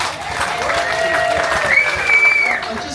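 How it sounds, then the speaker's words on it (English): Applause at a group gathering aboard a Princess cruise ship, a steady round of clapping lasting a few seconds at moderate volume without a clear voice on top. "we can have a round of applause for Ken and Lindsay"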